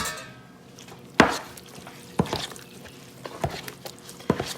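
Onions and celery sauteed in two sticks of butter are stirred into a cornbread dressing, with a spoon knocking and scraping the pan in a few distinct clanks and soft wet stirring between them, no talk.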